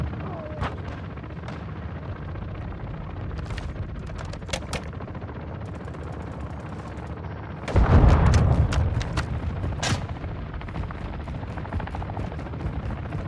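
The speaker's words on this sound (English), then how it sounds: "Enemy mortar strike incoming." In Call of Duty, scattered gunshots crack repeatedly before a heavy mortar strike lands with a loud, close boom. More sharp shots follow the blast.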